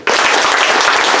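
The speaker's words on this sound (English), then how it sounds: "I want everyone here, without looking at anyone else, to clap your hands 3 times perfectly in synchronization." A small audience claps together, starting suddenly and loudly and then continuing as a dense, uneven burst of applause close by.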